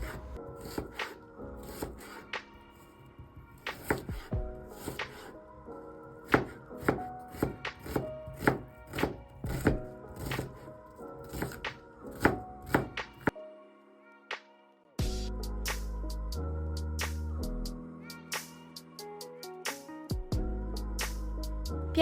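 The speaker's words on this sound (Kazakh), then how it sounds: "Ең алдымен біз осылай 3 пиязымызды алып, жақсылап тұрып, майдалап тұрып турап алатын боламыз." A knife chops three onions finely on a board, giving a steady run of close, crisp taps that pause briefly, then resume with a denser, heavier rhythm.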